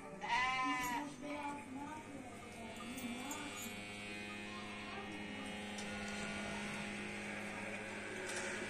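Sheep and their lambs in a village pen let out a loud bleat at the start, then a steady low background hum carries on for several seconds.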